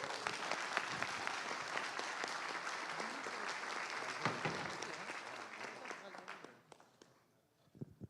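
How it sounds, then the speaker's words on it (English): Conference audience applause at a Drupal event, sustained clapping from a sizable crowd with a few voices mixed in, tapering off around the seventh second to near quiet. "please give them a warm applause"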